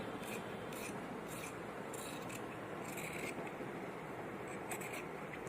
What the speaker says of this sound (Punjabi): ਹੁਣ ਆਪਾਂ ਮੋਢੇ ਹੀ ਕੱਟ ਪਾਉਣ ਲੱਗੇ ਆ ਜੀ